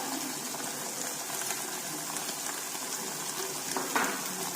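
Chilli powder and salt frying in a pan, a steady close sizzle and bubbling hiss running throughout with faint stirring clinks.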